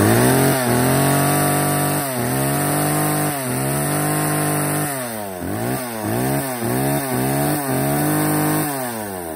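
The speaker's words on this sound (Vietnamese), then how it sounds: "Máy cưa nhưng mà nó nổ cái tiếng rất là êm ái." An American-made chainsaw engine runs loud and steady close by, idling between repeated rev-ups and sharp throttle blips, its harmonic whine rising and falling throughout.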